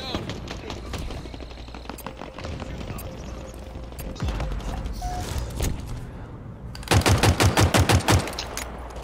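Rapid automatic gunfire from the video game Halo Infinite rattles out in short bursts, ending in a loud, fast volley near the end, mixed with game sounds and a player talking and laughing.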